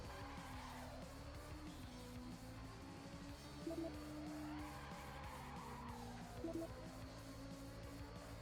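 Nanwolf Thunder racing a lap in Super Woden GP 2, a steady droning engine note that rises and falls through corners, with brief tire squeals and skids, faint and continuous, no talk.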